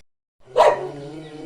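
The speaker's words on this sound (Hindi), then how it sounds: "देखो कैसे भौंक रहे हैं।" A dog gives one sharp, close bark after a moment of silence, followed by a ringing tail.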